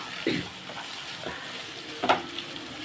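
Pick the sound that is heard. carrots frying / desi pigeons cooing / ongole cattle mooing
carrots frying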